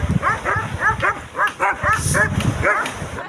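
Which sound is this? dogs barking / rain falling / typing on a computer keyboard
dogs barking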